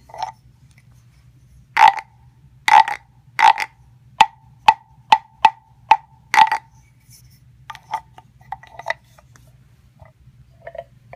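A wooden adult frog instrument from a frog collection is played, giving several raspy scraped croaks followed by a steady run of sharp tapped clicks, then softer scattered scrapes, close and alone.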